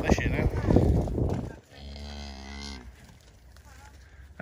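A cow moos loudly and close by in a field near Asthall, West Oxfordshire, one long deep low call that follows a burst of louder noise and then tails off.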